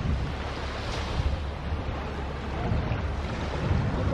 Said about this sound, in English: Look at this beach we're at now.